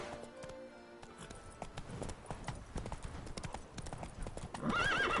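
Roach, a horse in a video game, gallops with rapid rhythmic clip-clop hoofbeats and ends in a loud neigh, with game music and effects underneath.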